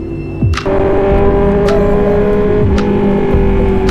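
A Honda CB650R motorcycle engine revs loudly and close by, with a steady throaty drone and a few sharp throttle blips running through the whole stretch.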